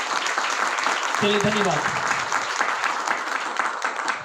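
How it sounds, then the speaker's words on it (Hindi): An audience gives board members a dense, loud round of applause for several seconds at a network marketing meeting. Someone speaks briefly over the clapping. "एक बार मैं चाहूंगा इन तमाम बोर्ड मेंबर के लिए एक बार तालियां बजाएं आप।"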